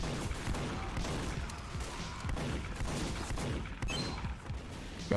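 Gunfire in the Team Fortress 2 video game, a steady, dense barrage of shots and blasts that continues for the whole stretch.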